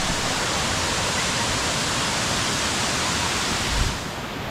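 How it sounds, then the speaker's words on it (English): A clear waterfall pours in a steady, dense wash of rushing water that stays constant and fairly close. Near the end it drops slightly in level after a brief low thump. "Just look how clear that waterfall is."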